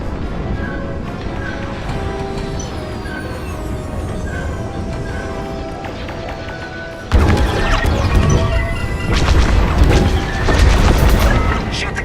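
Pillars being shot and destroyed in Star Wars Squadrons: a steady engine drone with faint tonal blips gives way midway to loud, crashing blasts and rumbling impacts that keep pounding for several seconds.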